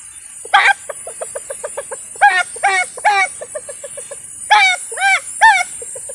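A voice imitates a rooster with short clucks and several rising crowing calls, close and fairly loud, spaced irregularly over a few seconds.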